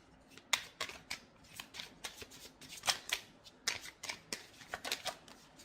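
Tarot cards are shuffled and drawn in a quick run of crisp, papery flicks and riffles, close and fairly loud, with no talking.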